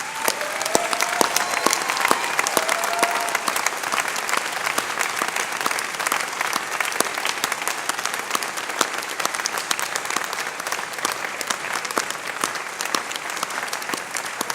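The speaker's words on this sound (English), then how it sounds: "turn around and applaud everybody and above you," A large graduation ceremony audience claps continuously, sharp individual hand claps crackling through a thick, sustained wall of applause with no one speaking.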